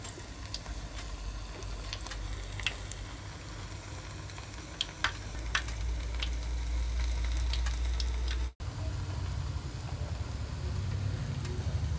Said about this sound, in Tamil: இப்போ நமக்கு இந்த எண்ணெய் நல்லா கொதிச்சிருச்சு.